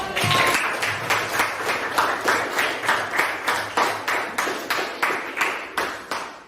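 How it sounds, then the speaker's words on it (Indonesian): A class applauding a group of students in a coding lesson, rhythmic unison clapping in regular beats at a steady, moderate pace, close and clear. "tepuk tangan untuk kelompok"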